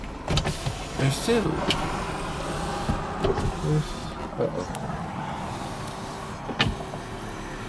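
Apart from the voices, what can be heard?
car power windows moving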